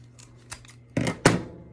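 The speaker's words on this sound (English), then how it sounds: "All I'm going to do is cut that off." Scissors snip off an extra ribbon loop from a wreath bow, giving two sharp, close cuts near the end after a few lighter handling rustles.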